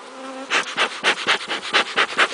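Honey bees buzz steadily around an open hive during an inspection, a dense pulsing drone rising and falling in regular swells, close and fairly loud with no talk.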